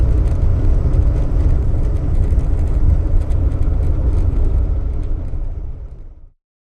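A car driving in eco mode, a loud steady low engine and road rumble heard from inside that holds for several seconds, then fades and cuts off abruptly near the end.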